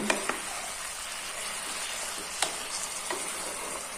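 Half-boiled jujube (kul) being stirred for pickle, with faint sizzling and a few sharp clicks of a utensil against the pan.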